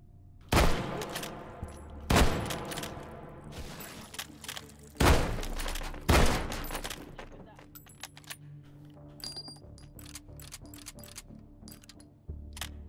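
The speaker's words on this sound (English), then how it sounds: "I wish the guns had a little bit more punch to them." Gunfire in the VR game Hot Dogs, Horseshoes & Hand Grenades, several sharp loud shots spaced a second or two apart, then a scatter of lighter metallic clicks and clatter.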